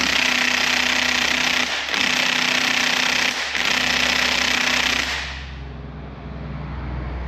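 An impact wrench hammers on the crankshaft pulley bolt of a 3.5 EcoBoost engine in a loud, close, continuous rattling burst with two brief dips. It cuts off after about five seconds into a lower, fading hum.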